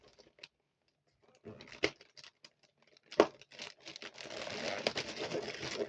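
A package box is being opened at close range with faint, scattered crinkles and tearing of wrapping, a few sharp rustling bursts, and denser crinkling toward the end.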